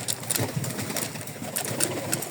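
A short stretch of pigeon cooing, soft and rounded, mixed with wind rushing past outdoors.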